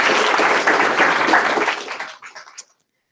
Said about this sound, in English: a big round of applause for John, please.